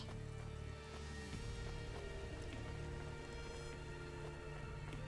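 Rain falling in the video game Cloudpunk, a soft, steady patter of drops under layered in-game music and ambient tones, continuous throughout with no talking.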